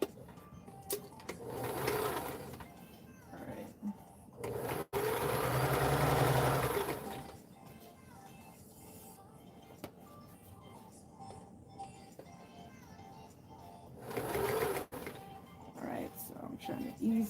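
Sewing machine stitching fabric for a dress form cover, short whirring bursts between pauses, with one longer run in the middle; a person talks quietly in the gaps.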